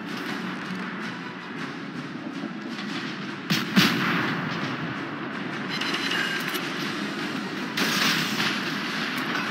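Naval guns firing in the warship game World of Warships: a heavy booming salvo near the middle and another near the end, rising over a constant low rumble of engine and sea noise, loud and without talking.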